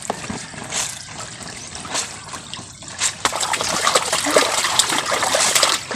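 Water splashes and trickles near a stream while laundry is washed, a continuous close spatter that grows busier and louder toward the end, with no talking.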